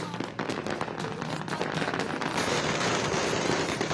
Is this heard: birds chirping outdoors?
no